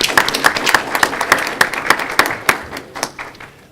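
An audience at a school board meeting applauds a student, a brief burst of close, fairly loud clapping with many overlapping hand claps that stays steady for a few seconds and then thins out at the end.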